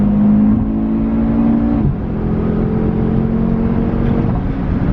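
A 2019 Audi RS3 saloon with its stock exhaust drones steadily from inside the car at cruising speed, a loud continuous engine hum with a slight shift in pitch partway through.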